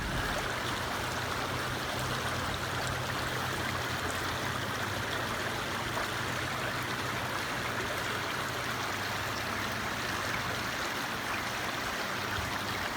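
A small creek at a riverside campground flows with a steady, dense rush and trickle that stays constant throughout, close by and fairly loud, with no voices.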